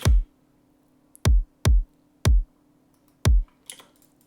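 Layered kick drum for a future bass track, a main kick stacked with a top kick. Five punchy, booming hits land alone at an uneven pace. Each one has a sharp attack and a deep low thump that decays quickly.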